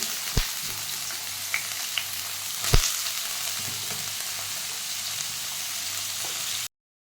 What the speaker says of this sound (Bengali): এই যে গরম গরম আলু ভাজা